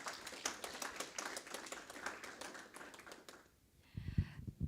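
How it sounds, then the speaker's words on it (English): Conference audience at JuliaCon 2024 welcoming a speaker with brisk, scattered hand claps that go on for about three seconds, then fade out, followed by a few soft thumps nearby. "Let's give applause already."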